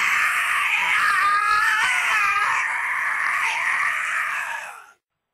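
A single long, shrill, distorted mechanical scream from the Freddy animatronic in a video game, as it is pulled apart, wavers loudly for several seconds before cutting off into silence.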